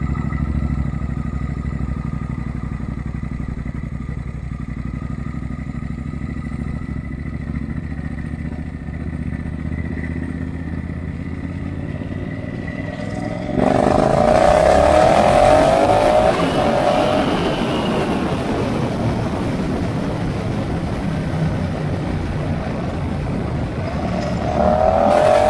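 A turbo-boosted Triumph Bobber motorcycle idles with a steady low rumble, then the engine note jumps to a loud, rising, strained roar under hard acceleration, dips briefly and climbs again near the end.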